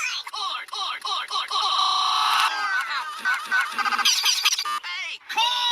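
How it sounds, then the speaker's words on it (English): Turkeys from the animated film Free Birds gobble and honk in a rapid, loud cluster of repeated calls, sounding close and filling the short stretch with no talk over them. "Those are not chickens, these are turkeys."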